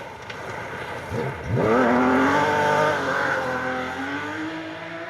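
A Porsche 911 RS rally car engine on a Welsh rally stage, loud and close, revving up sharply then holding a steady high drone before easing slightly, with no talk over it.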